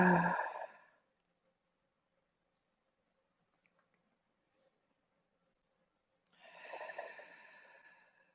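Slow, deep breaths during a yoga stretch: one strong exhale at the start and another long breath near the end, with near-silence and a faint hum between them.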